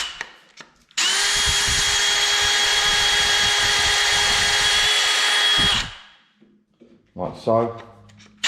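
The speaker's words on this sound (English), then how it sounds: "keep bringing the reamer out, in, out, Clean the plastic out, let the plastic drop off." A power drill fitted with a reamer bores out plastic for a homemade carp-fishing baiting pole, giving a loud, steady high whine for about five seconds before winding down; someone speaks briefly afterward.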